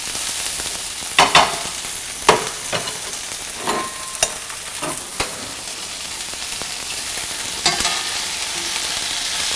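Tofu frying in a pan for a quinoa tofu salad, with a steady close sizzle and hiss broken by several sharp stirring clatters spread through the clip.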